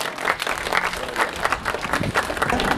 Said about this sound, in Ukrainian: Під оплески всіх присутніх.